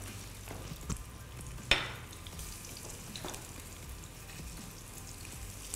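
Thin potato slices frying in olive oil in a deep nonstick pan, a steady quiet sizzle with small pops and one sharper crackle as a slice goes in.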